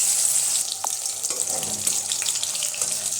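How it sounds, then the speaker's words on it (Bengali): Soybean chunks fry in white oil in a wok with a loud, continuous close-up sizzle and occasional stirring clatter. "এবার এগুলো ভেজে নেব।"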